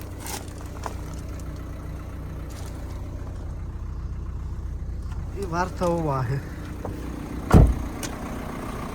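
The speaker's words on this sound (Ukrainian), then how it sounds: "прогрівається мотор" A Renault Megane 3 hatchback with a 1.6 petrol engine idles while warming up, a low steady rumble running throughout beneath someone talking nearby, with a brief louder knock near the end.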